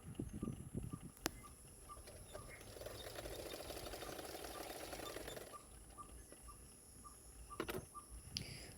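A sewing machine stitching the darts of a ruffled sleeveless blouse runs in a faint, steady whirring stretch through the middle, with softer starts and stops around it.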